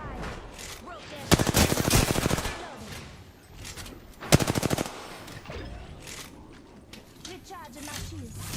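Apex Legends gunfire erupts in two loud, rapid automatic bursts, each lasting about a second, with game effects and quieter sounds between them.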